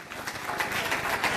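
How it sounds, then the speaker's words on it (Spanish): A church congregation claps for a family in a short, steady round of applause, dense and fairly close, holding at even strength with no voices on top. "Un aplauso para los Mendoza"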